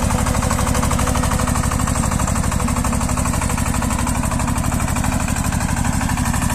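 Tractor driving a rotary tiller to mill white mustard into the soil, a loud, steady, close mechanical chatter of engine and rapidly spinning blades pulsing in fast, even beats throughout.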